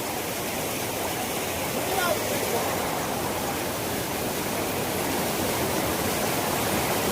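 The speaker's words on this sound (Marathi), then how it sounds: "किती पाणी ह्या बाजूनं भिंत फुटून असं पाणी करून वाहत आहे" Floodwater rushing through a broken wall near a bridge after two hours of heavy night rain in Koregaon taluka, a loud, unbroken roaring torrent, close and constant.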